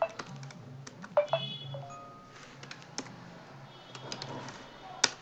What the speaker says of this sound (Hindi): चलो मैं टाइप ही कर देता हूँ